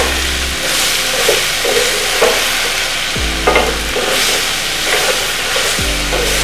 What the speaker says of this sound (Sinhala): අන්නාසි ටික තැම්බෙන්න දෙන්න ටිකක් වෙලා